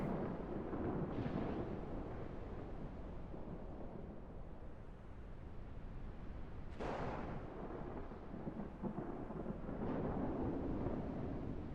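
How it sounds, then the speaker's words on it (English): Deep, continuous thunder rumbles through a video game lightning storm over a hot desert landscape, a steady roar with a sharper crack swelling near the middle and another later, with no talking. "Lightning storm coming in."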